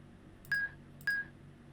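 Two bright, identical chime dings from a puzzle in the Myst: Masterpiece Edition video game, evenly spaced about half a second apart, clean and close with a short decaying ring and no talk.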